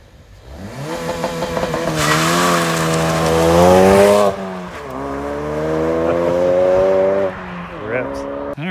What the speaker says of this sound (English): We just wanted to do a quick little drifting video with the new car.